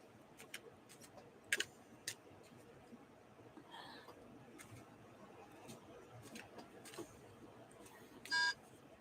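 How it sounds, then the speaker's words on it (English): A few short electronic beeps sound faintly around a quiet room, with a brief tonal bleep near the end over a low background hum. "My machine's beeping at me."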